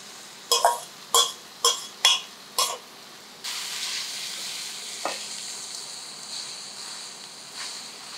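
Food sautéing in a pan on the stove, a steady sizzle running under a string of five sharp, evenly spaced clatters at the start, likely the spoon striking the pan, with no talking.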